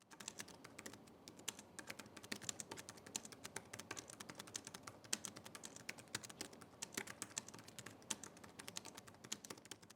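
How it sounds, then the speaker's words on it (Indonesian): Rapid, steady clicking of keys on the detachable keyboard of an Asus VivoBook 13 Slate OLED T3300KA tablet, close and fairly quiet, continuing throughout with no voices. "contoh suara feedback dari keyboard Asus VivoBook 13 Slate OLED"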